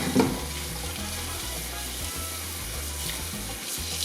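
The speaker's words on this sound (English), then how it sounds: "just one by one, give them a good rinse" Chitterlings rinsed one by one under running water, producing a continuous close splashing and trickling with a small thud at the start.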